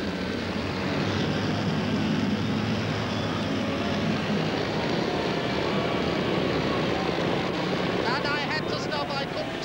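Engines of the Bristol Brabazon airliner rumble after landing at the end of a half-hour test flight, a loud continuous drone throughout, with a voice talking over it.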